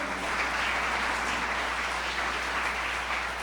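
A church congregation breaks into dense, sustained applause during a Spanish-language sermon, an even wash of many hands clapping with a low hum beneath and no talking.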